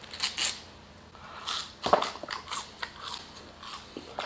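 Crinkle-cut fries bitten and chewed up close: several sharp crunchy bites, with one loud crunch near the middle, followed by softer wet chewing, no talking.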